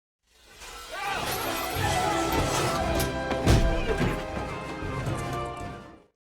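A glass roof smashed in during a police raid scene in a film, heard as a sustained loud crash and shatter of breaking glass with a heavy impact in the middle, then fading.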